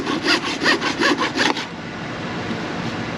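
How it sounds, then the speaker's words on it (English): A hacksaw cuts through a Hayward pool pump part in about eight quick, rhythmic strokes, loud and close, then stops, leaving quiet room tone. "Hacksaw cut through it just fine."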